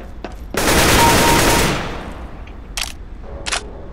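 Automatic gunfire in Counter-Strike: Global Offensive, a loud sustained burst of rapid shots lasting over a second, followed by a fading tail and a couple of short sharp clicks or shots afterward.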